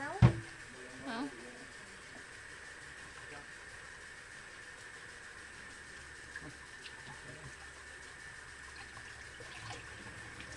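A tap runs into a kitchen sink while young children wash dishes at home: a faint, steady flow of water with a couple of soft clinks near the start.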